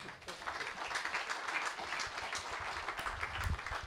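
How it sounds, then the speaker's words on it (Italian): An audience at an Italian evening show applauds a guest, a steady, faint patter of many hands clapping that runs without a break. "Franco Citterio, applausone."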